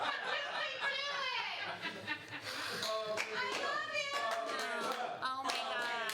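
Audience at an improv comedy show clapping and cheering with laughter mixed in, a dense, steady burst of applause and voices filling the room throughout.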